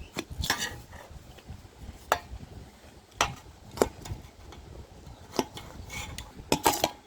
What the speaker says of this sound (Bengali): এবার পেঁয়াজ কাটতেছে